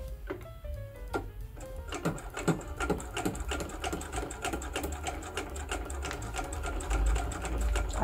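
A vintage Singer 66K sewing machine stitching steadily, with a fast, even mechanical clatter that keeps going the whole time and builds slightly toward the end, close and alone without any talk.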